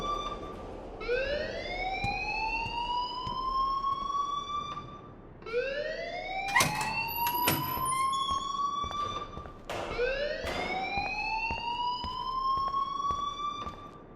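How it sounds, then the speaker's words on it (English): A school alarm in the video game Life is Strange rings as a rising, wailing siren that sweeps upward in three repeated cycles, loud and close, with brief extra tones layered in the middle. "please turn off that alarm since that's your job"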